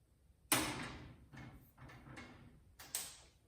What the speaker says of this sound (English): And close your door.